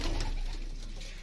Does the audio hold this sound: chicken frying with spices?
no